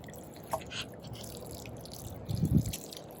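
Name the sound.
water dripping while watering garden potatoes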